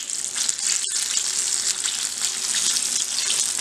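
Eggplant pakoras get a second fry in hot oil to crisp them, giving a loud, steady hissing sizzle with a short break near the start and no voices.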